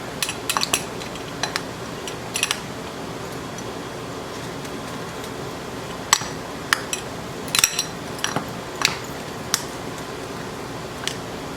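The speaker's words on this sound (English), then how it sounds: "So for my guacamole, I might have to chop these up a little bit better" A metal knife or fork clicks and taps against a bowl while firm avocados are chopped for guacamole, scattered sharp knocks at irregular intervals over a quiet background.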